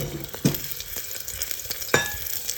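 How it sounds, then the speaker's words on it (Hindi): Asafoetida, garlic cloves, cloves, ginger slices and cumin fry in hot oil, a brief close sizzle broken by a few sharp clinks of a spoon against the pan. "हींग, गार्लिक क्लोव, लौंग और जिंजर स्लाइस।"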